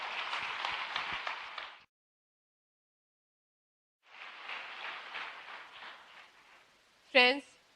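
A seminar audience at an Amway success event applauds to welcome Meenakshi Rana: a stretch of clapping, a silent break, then a second longer round, closed by a brief sharp sound.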